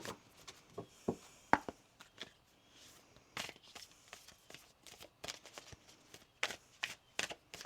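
Tarot cards are shuffled by hand in a quiet room, with soft, irregular riffling and tapping bursts scattered through the clip.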